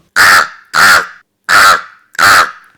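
A school student performing mimicry at a school program in Chelannur imitates a crow, giving four loud, harsh caws in a steady rhythm, close and clear with short silences between.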